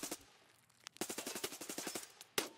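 Gunfire in the shooter Escape from Tarkov, a few sharp single shots followed by a rapid burst of a dozen or so evenly spaced rounds and a final loud shot, close and dominant with no talking.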